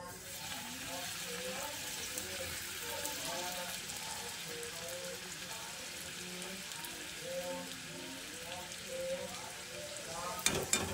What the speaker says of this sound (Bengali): তারপর দেখুন লুচি ভেজে নিচ্ছি। দেখুন কত সুন্দর ফুলছে